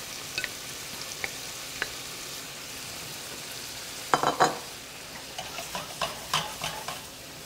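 Shrimp added to a pan of tomato sauce with garlic and onion, a low steady sizzle with a few faint clicks, then a burst of scraping and stirring followed by repeated shorter stirs near the end.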